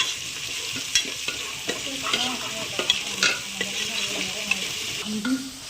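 Masala for mutton biryani, seasoned with rock salt, sizzles in a pan while a spoon stirs it, giving repeated scraping knocks over a continuous soft frying hiss.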